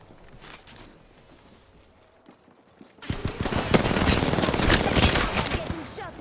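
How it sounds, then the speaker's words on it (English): Video game gunfire hitting the player, beginning with quiet scattered sounds and then a loud burst of rapid machine-gun shots that keeps going for several seconds. "I'm getting shot at"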